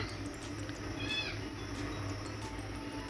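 A single cat meows about a second in, a short and fairly faint call over a constant low background rumble.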